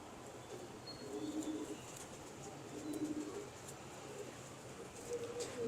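Broad-winged pigeons coo in a few soft, low bursts at a moderate distance over a hissy outdoor background, with faint chirps breaking through now and then.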